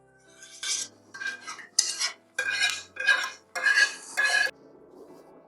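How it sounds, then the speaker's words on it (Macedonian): A spoon scrapes and stirs through thick bolognese mixed with béchamel sauce in a pot, six or seven rasping strokes in a steady rhythm, close and clear, then quiet. "Јас секогаш ги мешам овие две работи заедно, болоњезот и бешамелот."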